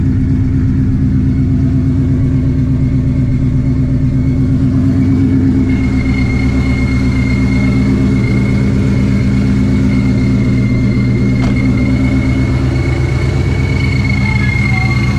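A 900 hp Shelby GT350 with a new twin-disc clutch idles close up, a loud, deep, lumpy engine rumble holding steady throughout, with a faint high whine and occasional voices in the background.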